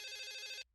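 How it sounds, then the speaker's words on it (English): A telephone rings in a Bee Movie Game cutscene, a bright electronic trill lasting just over half a second before cutting off abruptly into silence. "Is that your phone?"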